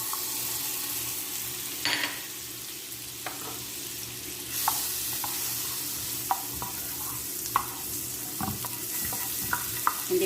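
Butter sizzles and spits in a hot frying pan before salmon goes in, a steady close crackle with scattered sharp pops and a few clinks of a utensil, and no voices.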